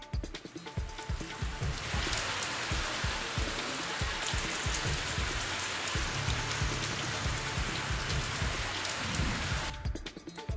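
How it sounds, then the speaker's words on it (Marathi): Heavy rain pours down over waterlogged farm fields, a loud, continuous hiss of drops with low thuds beneath, steady throughout and easing off only at the very end. "जोरदार पावसामुळे शेतात पाणी साचलं होतं"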